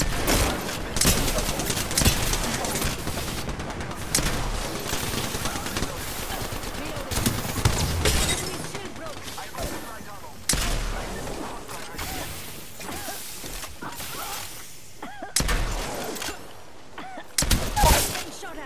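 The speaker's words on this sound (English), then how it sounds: "Being shot at." Apex Legends gunfire in bursts of rapid automatic shots and single cracks, some near and loud, others lighter, with game voice callouts mixed in over a busy battle backdrop.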